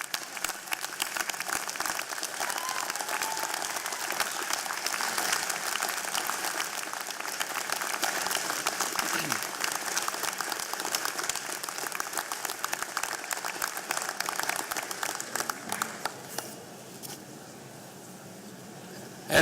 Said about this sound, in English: give them a round of applause for being with you every step of the way?